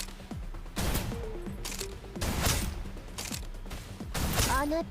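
Gunfire in the shooter game Snowbreak: Containment Zone, rapid bursts of weapon shots with mechanical clicks and thumps repeating in waves, loud and close over game sound effects.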